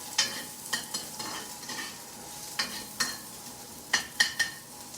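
Carrots stir-frying in hot oil for chow mein, with a soft steady sizzle broken by sharp scraping stirs, some single and some in quick pairs, close by and with no talk.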